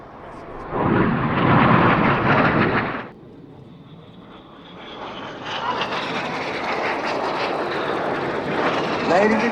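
Red Arrows display jets roar overhead at an air show, a loud burst of engine noise cutting off abruptly, followed by a quieter lull and a renewed rising rumble of aircraft.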